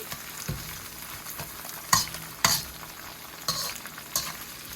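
Chili powder frying and being stirred in hot oil with green chilies in a pan: a steady close sizzle with several sharp spoon scrapes and clinks against the pan.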